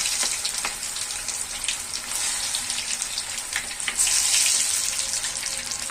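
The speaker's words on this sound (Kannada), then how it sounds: "ಕಾಯ್ದಿರೋ ಎಣ್ಣೆಗೆ ಸೊ ನಾನು ಇದರಲ್ಲಿ ಕರಿತಾ ಇದ್ದೀನಿ" Egg bonda balls frying in hot oil, a steady, close, crackling sizzle with dense bubbling pops throughout, growing slightly more intense toward the end.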